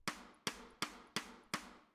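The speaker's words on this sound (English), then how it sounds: "That's called playing side stick, and that's what happens when you only hit the rim of the drum" Side stick on a snare drum, the stick striking only the steel rim hoop: five dry, woody clicks spaced evenly about a third of a second apart, close but fairly soft, each dying away quickly.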